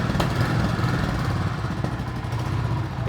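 A 350cc motorcycle idles with a steady low engine and exhaust rumble, close and continuous, with a slight rise as the throttle is opened.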